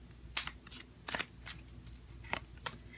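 Tarot cards being shuffled, faint riffling bursts and soft flicks scattered across a few seconds in a quiet room.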